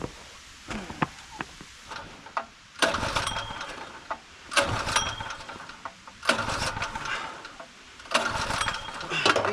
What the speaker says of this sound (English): that generator is like the nemesis of this video.